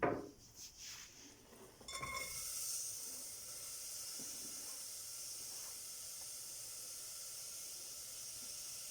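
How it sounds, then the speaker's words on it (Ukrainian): Chopped onion sizzling in oil in a pot, a steady soft hiss after a couple of clattering handling sounds at the start, fairly quiet and close. "трішки олії наливаю і викладаю нарізану цибулю"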